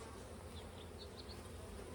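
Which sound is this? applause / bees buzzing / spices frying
bees buzzing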